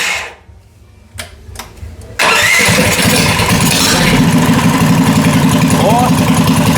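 On a kart cross fitted with a carburetor, an engine cranks and catches, then settles into a loud, steady, throbbing idle close to the microphone, following a few quieter clunks and a voice before it fires.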